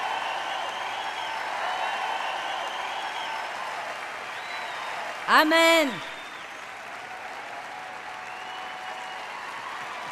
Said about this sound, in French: Applaudissons fort à Dave.